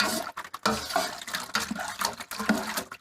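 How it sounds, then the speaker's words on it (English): Homebrew beer wort stirred briskly in a pot, for a Morgan's Australian Gold brew: continuous close scraping and sloshing, with utensil clinks against the pot's metal sides. "So I'll just quickly keep stirring that until you can't see coloration on the bottom anymore"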